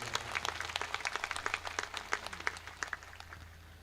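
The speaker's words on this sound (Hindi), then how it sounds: "जोरदार तालियां बजा करो" Gathered mourners at a memorial tribute clap in a brisk, uneven patter of many hands, fairly close and moderately loud, with a steady low electrical hum underneath.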